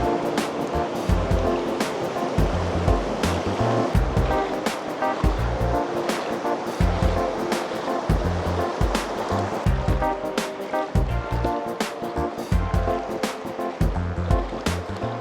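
Stream water rushes steadily through the Zion Narrows canyon, with rhythmic splashes of wading footsteps through the current, loud and close throughout.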